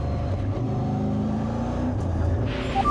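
Race car engine in the EuroNASCAR racing video game at Zolder, a steady loud drone with layered harmonics as the driver lifts off the throttle, holding near-constant level throughout.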